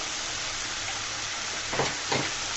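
Spice masala of turmeric, red chilli powder and fish masala being sautéed in oil in a pan: a steady, moderate sizzle and hiss, with a couple of soft stirring scrapes near the end.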